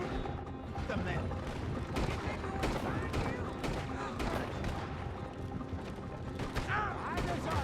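Gunfire in Red Dead Redemption 2 crackles in a busy, dense stream of sharp shots and impacts, mixed with game clutter and voices talking throughout.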